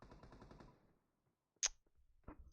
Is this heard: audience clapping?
no